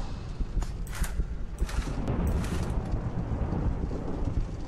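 Thunderstorm ambience in the horror video game The Joy of Creation, a continuous low rumbling roar with scattered crackling bursts, steady and fairly loud throughout.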